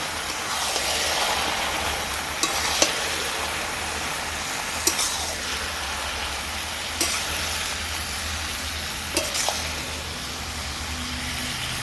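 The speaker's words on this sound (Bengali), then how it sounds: "এবার সব কিছু আমি ভালোভাবে মিশিয়ে নেব" A fish head with taro greens fries in a pan, giving a steady broad sizzling hiss close up. A few sharp clicks and scrapes of stirring break through at intervals.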